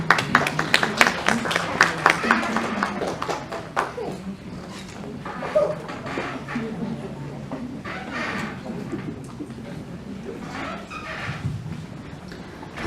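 Applause for an award presenter on stage at a scientific awards ceremony: a burst of brisk clapping at the start that thins out into scattered claps and room murmur.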